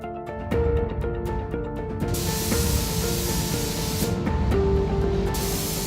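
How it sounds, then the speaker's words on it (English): Spray paint hisses steadily onto a vintage Ameise forklift, a loud, continuous close-up spray with brief stops and restarts early on. "The vintage forklift is getting a fresh coat of paint."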